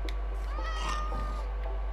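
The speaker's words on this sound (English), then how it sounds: "I can hear a cat of some sort somewhere." Cat meowing in Minecraft, a single short meow rising and falling over a low steady hum, moderately faint.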